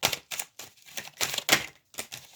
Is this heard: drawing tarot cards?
yes